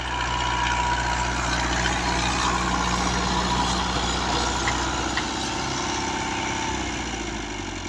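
A Fiat 640 tractor pulls a nine-tine plough through a Punjab field being prepared for cotton, its engine a loud, steady, continuous drone that labours evenly throughout.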